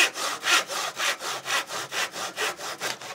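Near and steady, a hand saw works through an old wooden broom handle with roughly a dozen brisk, evenly spaced rasping strokes, alone without speech.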